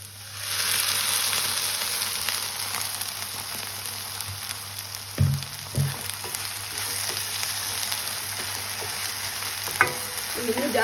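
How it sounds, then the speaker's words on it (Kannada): Tomato puree hitting a hot pan of aloo gobi with green chilli gives a steady, close frying sizzle, broken by a few stirring knocks and scrapes near the middle and end. "ಈಗ ನಾನು ಒಂದು ಹಸಿಮೆಣಸಿನ್ಕಾಯಿ ಹಾಕೊಳ್ತೇನೆ. ಈಗ ಟೊಮೆಟೊ ಪ್ಯೂರಿ ಹಾಕೊಳ್ತೇನೆ."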